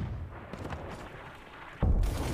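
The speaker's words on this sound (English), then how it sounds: "I'm getting him with a cannon." A cannon fires in the pirate video game Sea of Thieves, one loud low boom that jumps in near the end after quieter game noise.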